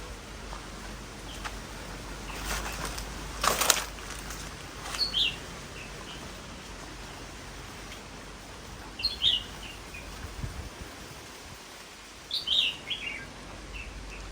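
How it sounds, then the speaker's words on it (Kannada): Faint bird chirps and calls sound in short bursts across open hillside ambience, with a brief knock or thump early on. "ಗುಡ್ಡದಲ್ಲಿ ಹಕ್ಕಿಗಳು ಕೂಗ್ತಾ ಉಂಟು ನೋಡಿ"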